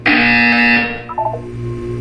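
A loud, harsh electronic buzzer from the Portal 2 test chamber sounds for under a second, then decays into a lower electronic hum with a few faint tones.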